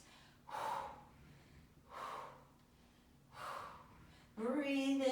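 Heavy breathing during a core workout with oblique rotations: three forceful, breathy exhales at a steady pace, fairly close, then a short strained vocal sound at the end.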